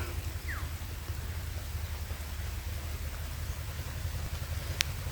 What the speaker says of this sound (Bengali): কিন্তু বৃষ্টি এসছে টোটালি